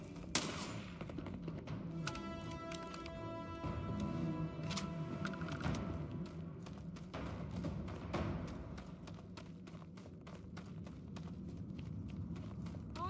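Sustained gunfire in the space shooter Starfield: rapid bursts of shots crack over a busy battle din, with a steady bed of mixed combat noise throughout and no talk.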